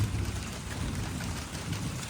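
Unseasonal rain falls on a Konkan coastal village near Mithbav, a steady, dense hiss of drops that stays even throughout with no voices.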